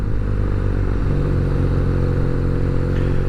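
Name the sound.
BMW R nine T twin-cylinder motorcycle engine revving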